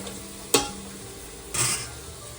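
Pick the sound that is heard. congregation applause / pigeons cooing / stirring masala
stirring masala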